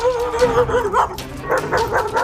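An aggressive dog barks and yips in quick bursts, close and loud, the vocal sounds rising into whiny, strained tones between sharp woofs with no talking.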